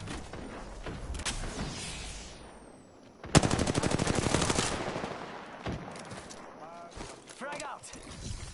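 Shotgun fire in the video game Apex Legends: a sudden loud burst of rapid shots cracks out mid-clip, with scattered quieter gun sounds around it and someone talking over the action.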